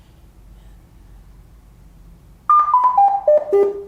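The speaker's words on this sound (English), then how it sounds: "the little beeps means that a new turn has started" Google AIY Kit v1 voice kit rigged as a game-night turn timer emits a short run of about six clear electronic beeps, each stepping down in pitch, close and loud after a quiet stretch.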